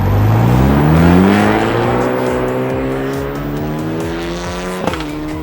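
Renault Clio race car lapping the Miami track in iRacing, engine revving loud and steady through rising gear pulls, with a brief tire squeal or bump near the end and no talk.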